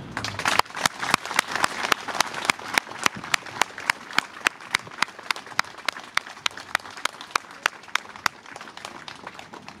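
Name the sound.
applause for the police at a ceremony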